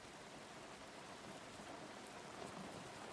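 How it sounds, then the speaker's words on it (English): Steady rain falls in a continuous soft hiss of drops on surfaces, even and fairly faint, with no voices. "Are you out in this rain?"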